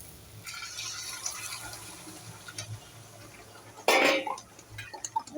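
Broth or liquid poured into a pot of mutton curry in a home kitchen, a short loud splashing burst partway through over faint background kitchen noise.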